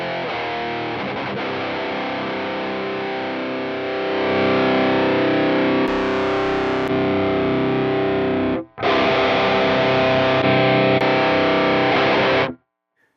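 An electric guitar runs through a JOYO Clean Glass pedal with the Archetype Nolly X built-in impulse response. It plays sustained, distorted chords that swell louder, cut off briefly, resume, then stop abruptly.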